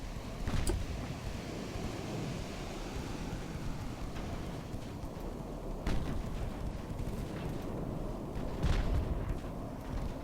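Naval artillery fire from battleships in the naval warfare game Ultimate Admiral: Dreadnoughts, a few distant booming shots at irregular intervals over a continuous low rumble of sea and engines.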